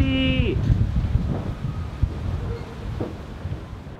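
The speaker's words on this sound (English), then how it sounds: "I'm like on this really cool rooftop terrace, but there's like gusts of wind coming" Gusty wind buffets the microphone on a rooftop terrace, a steady low rumble with a few stronger thumping gusts throughout, loud and close.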